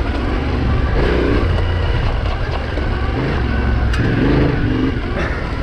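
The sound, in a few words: Yamaha Tenere 700 motorcycle riding on dirt trail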